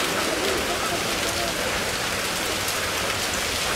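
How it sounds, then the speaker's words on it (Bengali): Rain from a Kalbaishakhi storm pours in a dense, even hiss that never lets up, with no thunder standing out. "জেলায় জেলায় কালবৈশাখী ঝড় বৃষ্টি।"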